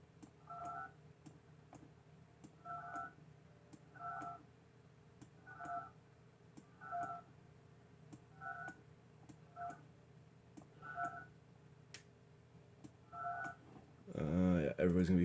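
Telephone dialing tones in the video game Project Highrise, a series of short paired beeps in irregular rhythm at moderate level, followed by a burst of louder sound at the end.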